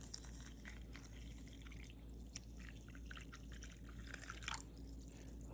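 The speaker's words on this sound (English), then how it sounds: "I'm gonna add another 500 milliliters water." Water pours and trickles into a cold brew coffee maker over coffee grounds, making a faint, continuous dribbling with small splashes over a low steady hum.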